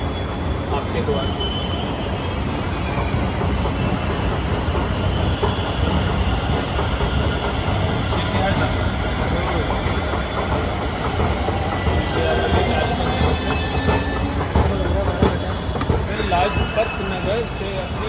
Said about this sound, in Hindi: after very long time metro, Delhi metro